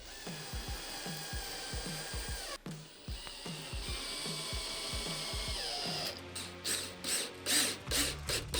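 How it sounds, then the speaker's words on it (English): A drill drives long screws down into a hole in a wooden table, with a rapid ratcheting, pulsing whir that runs steadily and then shifts into a higher, choppier grinding as the screw seats. "now we can take a longer screw since we've got plenty of room to work with, and we'll just run them down into that hole."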